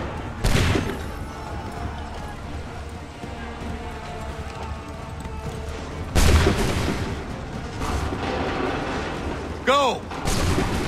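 Musket volleys and cannon booms on a battlefield in the Assassin's Creed III remastered game, two heavy blasts and a sharper shot ringing out over a steady rumble of battle noise and shouted orders.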